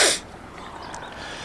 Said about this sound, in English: Ugh, sneeze.